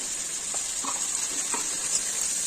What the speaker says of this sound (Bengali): মশলাটা এখন ছেড়ে দিচ্ছি।